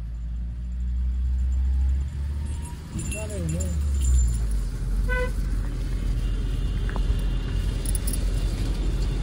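A car rumbles along a road nearby, its low engine drone steady throughout, with a couple of short horn toots and people talking over it.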